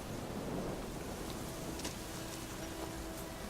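Steady, dense rain in The Witcher 3: Wild Hunt video game hisses continuously, with a faint low rumble underneath and no voices.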